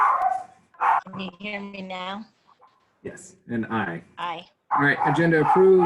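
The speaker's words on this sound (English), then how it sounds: "Sorry for the dog barking in the background." A dog barks a few times in the background of a school district board meeting held over a call, short yips scattered between people talking.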